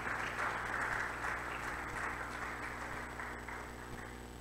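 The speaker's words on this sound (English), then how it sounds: "Can we give them a round of applause again," Conference audience applauding panelists after a session, a dense steady wash of clapping that gradually fades over a few seconds.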